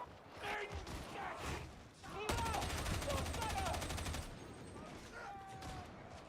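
Enemy gunners fire on players in the co-op shooter Warhammer 40,000: Darktide, a steady two-second stream of rapid automatic fire amid scattered combat noise, with voices talking throughout at a modest level.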